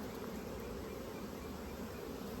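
Honeybees buzz over hive frames during a spring colony split, a dense continuous drone of many insects close by, steady and fairly soft with no talking.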